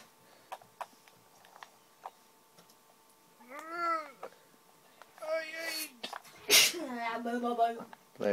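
A single sharp sneeze bursts out near the end, close to the microphone, amid scattered talking and background sounds while someone plays Skyrim.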